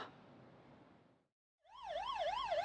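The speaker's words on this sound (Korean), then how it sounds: "달리기 대회 참가자들 사이로 구급차가 경광등을 번쩍이며 들어옵니다." Ambulance siren arriving at a night running race, starting after a brief silence with a loud, close wailing tone that rises and falls rapidly in a repeating warble.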